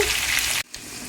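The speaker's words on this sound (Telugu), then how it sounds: "ఒక నిమిషం వేగాలండి." Onions frying in a pan for upma, a steady bright sizzle that cuts out sharply partway through, then returns more quietly.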